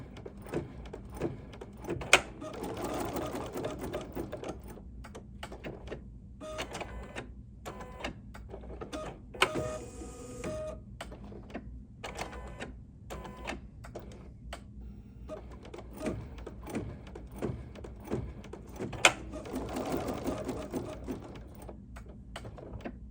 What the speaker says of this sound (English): So now these are going to be tack down stitches to place our plaid piece.